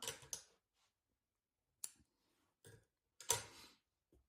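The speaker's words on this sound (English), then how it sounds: "So, cut the yarn" Scissors snipping through knitting yarn: a few short, crisp cuts and clicks spaced apart in near silence, close and fairly quiet.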